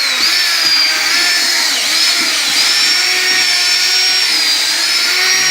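A power drill mixes a batch of custom-blend dry set mortar, its loud, steady high whine held close and constant with slight shifts in pitch throughout.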